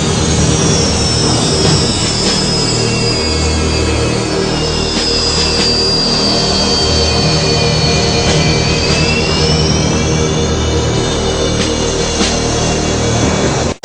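Sukhoi Su-37 jet engines taxi out of a hangar, a loud, steady roar with a high turbine whine that slowly shifts pitch, close by and unbroken for the whole stretch.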